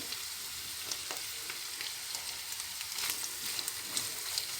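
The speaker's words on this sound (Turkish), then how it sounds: "Etim ve soğanımı iyice kavurduktan sonra baharatlarımı ve tuzumu ilave ediyorum." Meat and onions frying for Mersin tantuni in a pan with spices and salt, a soft, continuous sizzle with scattered crackles and light stirring, fairly quiet and close.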